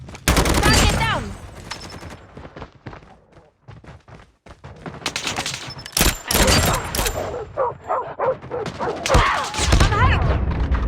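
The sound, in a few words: gunfire in a video game shootout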